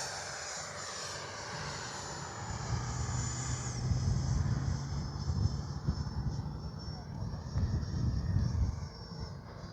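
An FMS Integral 80mm electric ducted-fan RC jet flying a no-flaps touch and go in a light crosswind, its steady high whine and low roar rising and holding as it passes fairly close.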